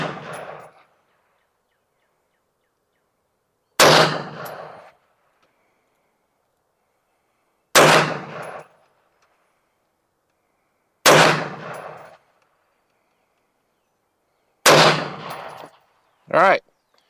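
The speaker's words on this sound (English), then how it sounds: "We're going to shoot a 5-shot group at the top right target." Five sharp, loud gunshots from a .223/5.56 AR rifle fire at a target, evenly spaced about three to four seconds apart with quiet between, then a short metallic ring at the end.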